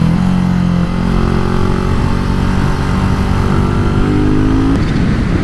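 A 2022 BSA Gold Star single-cylinder motorcycle on a test ride, its engine loud and close with a steady drone, a brief dip near the start and a gradual rise in pitch under throttle before easing off.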